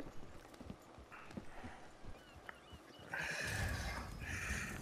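Horse hooves clip-clop in the video game Red Dead, a scattered run of faint hoofbeats followed by a louder burst of movement toward the end.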